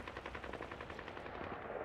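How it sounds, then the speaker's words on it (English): Rapid automatic gunfire from the video game Modern Warfare 2 during a hardcore Search and Destroy match, a quick rattling burst that is fairly faint and steady through the short moment. "I'm getting shot."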